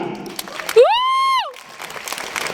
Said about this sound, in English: Please give a round of applause to the most powerful lady.